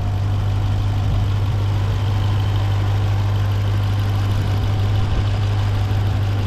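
A 2018 Jeep Grand Cherokee Trackhawk SRT with a supercharged Hemi engine idles, a loud, steady deep rumble close to the engine, with no speech.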